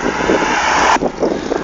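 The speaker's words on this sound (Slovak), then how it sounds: "Auto." A car passes close by cyclists on a road, a loud broadband rush that holds for about a second and then drops away abruptly, with no talking.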